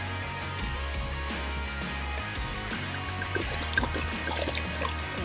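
White wine poured from a bottle over octopus in a cooking pot, a steady close liquid pour and trickle running throughout with faint kitchen background.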